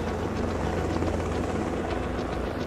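Helicopter in a mountain rescue setting in the Alps, a steady loud rotor and engine drone that fills the scene without pause, close and continuous with no voices over it.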